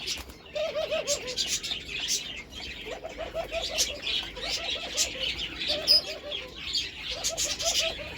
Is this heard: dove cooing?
yes